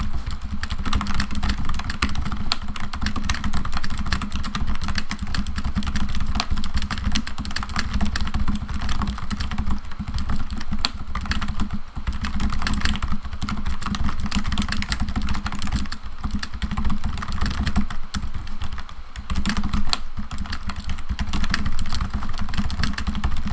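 Fingers type steadily on a cheap computer keyboard bought on Amazon, a dense, continuous clatter of close keystrokes over a low background rumble, with no talking.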